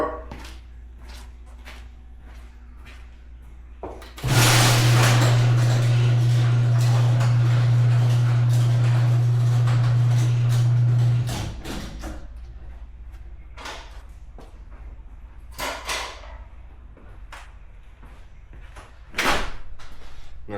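A garage door rolls open in one loud continuous run of about seven seconds with a steady low mechanical hum, set apart by sparse knocks and footsteps before and after.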